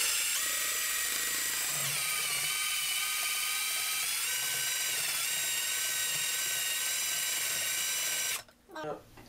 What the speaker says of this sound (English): I'm going to hit this with the drill.